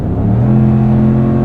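A Ram 1500 pickup's 5.7L HEMI V8 while towing, a loud steady low engine drone with a strong hum from inside the cab, brief and without talking.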